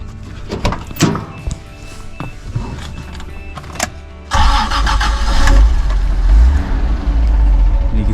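A Toyota Land Cruiser FJ60 sits quiet at first, with a few clicks and thunks close by. The starter then cranks and the engine catches into a loud, steady running rumble.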